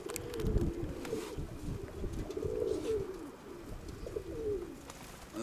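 A female pigeon coos softly and repeatedly in low, rolling phrases, close but quiet, with no voices present.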